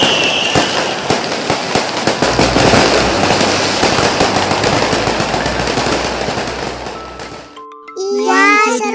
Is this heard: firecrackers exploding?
yes